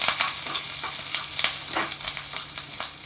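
Mustard seeds and cumin for a tempering crackle and sizzle in hot oil in a pan, with faint, scattered pops over a steady soft hiss.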